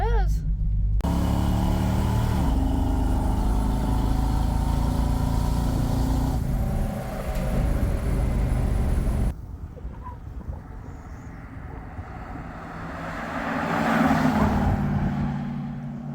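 A Mopar V8 with a recurved distributor fires up and idles with a deep, steady rumbling burble, a few short revs, then drops to a lower, quieter idle.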